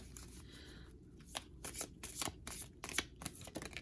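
A deck of tarot cards is riffled and shuffled at close range during a reading, giving several quick bursts of crisp flapping and snapping with brief gaps between them and no talk.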